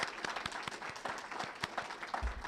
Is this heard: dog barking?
no